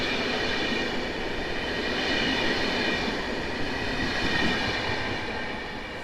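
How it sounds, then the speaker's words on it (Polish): An Intercity Brda passenger train at Warszawa Zachodnia station at night gives a steady, close rolling rumble with a constant hiss running through the whole stretch, and no voices. "A obok pociąg Intercity Brda z Warszawy Zachodniej do Bydgoszczy Głównej"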